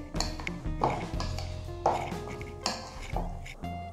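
Chicken Manchurian batter of chicken with red chilli, soy sauce, egg and cornflour being mixed in a bowl, giving repeated close clinks and scrapes of utensil against dish in an uneven rhythm, with no talk.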